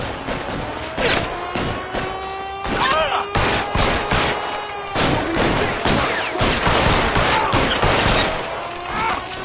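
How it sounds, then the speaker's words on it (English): Sustained gunfire in the video game L.A. Noire during a shootout at an electroplating plant, dense bursts of rapid shots and sharp cracks repeating loudly throughout, with faint voices mixed in. "Lay down some covering fire."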